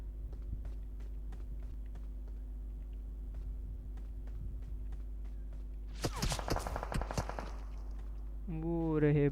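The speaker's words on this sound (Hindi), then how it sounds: "ये कहाँ से गोलियां चला रहा है?" Rapid, faint popping of distant gunfire in PUBG Mobile over a steady hum, then a burst of louder crackling shots, followed by a voice speaking.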